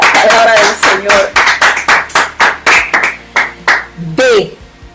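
Church congregation clapping hands in rhythmic bursts, a dozen or so claps in steady waves, loud and close, with a voice briefly calling out near the end.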